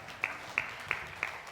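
Church congregation at a Sunday service clapping hands in a slow, even rhythm, five distinct claps about a third of a second apart, moderately loud over a hushed room.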